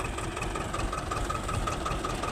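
A mini tractor engine runs steadily at idle, a constant low rumble with a faint knocking rhythm throughout, close by and without any voices.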